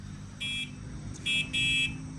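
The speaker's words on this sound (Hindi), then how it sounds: "कैसा है हॉर्न" Three short electronic bicycle horn beeps sound over a low steady hum: a single beep, a pause, then two longer beeps in quick succession.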